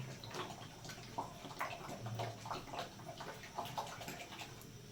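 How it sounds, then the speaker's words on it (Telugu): Half a litre of water pours steadily into a pot of milk for tea, a continuous splashing rush, close by, with light clinks and gurgles over the flow. "ఒక హాఫ్ లీటర్ వాటర్ పోసా"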